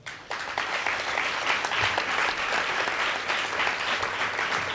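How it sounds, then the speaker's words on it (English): Steady, dense applause from a conference audience at a British Society of Cinematographers expo panel, many hands clapping continuously and evenly throughout, fairly loud and without speech on top. "I would, first of all, like you all to give a big round of applause to the panel."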